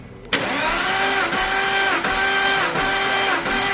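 A Porsche Boxster 986 engine cranks on the starter during a compression test, a steady, even chugging rhythm of repeated compression pulses that starts abruptly and runs loud and close for several seconds.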